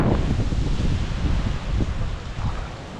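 Strong wind buffets the microphone continuously on a coast with big waves, a loud rushing roar with gusts rising and falling and no voices.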